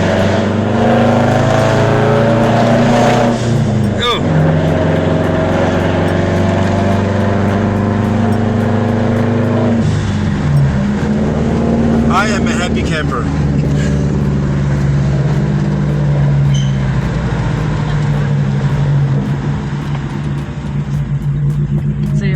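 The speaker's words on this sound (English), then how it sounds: "The exhaust is competing with it." A 2005 Subaru Impreza WRX's exhaust drones loudly and continuously, with low rumbling tones shifting as the engine revs and settles, filling the whole stretch.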